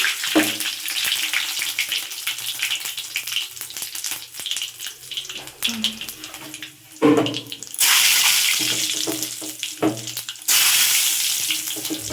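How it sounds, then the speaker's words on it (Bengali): Whole spices are tempered in hot oil for khichuri, crackling and sizzling up close with a loud, steady hiss that surges in two bursts, mixed with clatter from the pan. "এবার আমি ফোড়ন দিয়ে নেব।"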